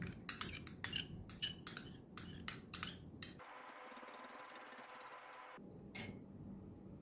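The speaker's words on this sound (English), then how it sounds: "Then I will incorporate all the ingredients by whisking it very well" Whisking creme caramel ingredients with cream in a bowl: quick, uneven metallic clinks and scrapes of a whisk against the bowl, close and fairly quiet, briefly giving way to a steady hiss before a few more taps.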